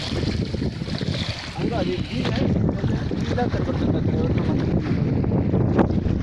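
Sea waves at Rameswaram wash and splash steadily around a boat, heavy wind buffeting the microphone throughout and faint voices in the background.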